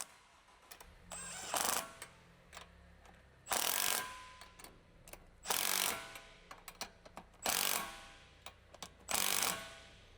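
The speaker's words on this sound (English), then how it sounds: "Using a 15mm deep socket with an electric impact wrench." An electric impact wrench with a 15mm deep socket tightening the nuts on a Jeep Wrangler JK steering stabilizer bracket, several short rattling hammering bursts repeated at intervals, with small clicks and handling noises between them, fairly close.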